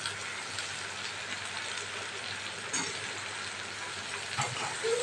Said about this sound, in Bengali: এবার পেঁয়াজ, টমেটো আর গোটা লঙ্কার সাথে তেলের মধ্যে বেগুন আর আলুটা ভালো করে ভেজে নিচ্ছে।